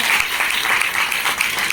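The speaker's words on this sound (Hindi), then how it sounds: "जोरदार ताली" Loud audience applause at a business motivational event, many hands clapping in a dense, steady roar that stays strong for the whole short stretch.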